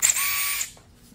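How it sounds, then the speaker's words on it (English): A power drill whirs steadily, driving bolts into flat-pack furniture during assembly, then cuts off and spins down within about a second, leaving a quiet room. "got the drill going here."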